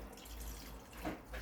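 Rice water poured from a container onto chicken for Filipino tinola, a soft, close splashing trickle of liquid that swells near the end, with no talking.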